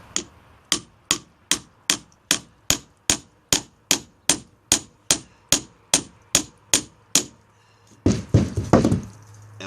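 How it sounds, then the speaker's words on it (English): A hammer strikes a wedge tool set in the crack of a concrete block to split it, about sixteen sharp, evenly spaced metallic taps, close and loud, ending in a burst of heavier clatter. "give it a couple taps"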